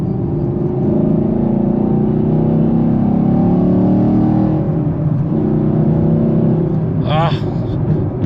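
A 2020 Chevrolet Camaro SS 1LE with a V8 and six-speed manual pulls hard from inside the cabin, a loud, steady low engine drone that climbs and holds through the run, with a brief squeak near the end.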